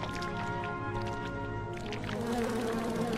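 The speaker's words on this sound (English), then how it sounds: "Oh, bees." Bees buzzing in the Hundred Acre Wood of Kingdom Hearts 2, a steady droning hum with a continuous insect whir and no gaps, alone and at moderate level.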